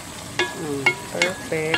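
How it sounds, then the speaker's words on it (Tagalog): Chayote and leftover fried food sauté in a hot pan, with close sizzling broken by several sharp stirring scrapes at a loose rhythm, while a voice speaks a single word. "Gisa nyo lang."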